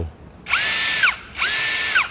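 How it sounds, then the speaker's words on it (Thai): An STR brushless cordless drill with a metal chuck whirs up loudly twice, each burst about three quarters of a second long with a rising then falling pitch, close to the recorder and with no talking. "วันนี้ทางร้านเราก็จะมารีวิวแนะนำสินค้านะครับสว่านไร้สายตัวใหม่ของยี่ห้อ STR นะพี่"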